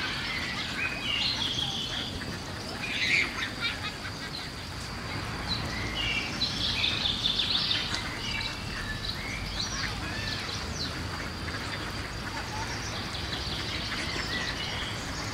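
Faint birdsong of scattered high chirps and short trills rises intermittently over a soft, continuous outdoor hiss.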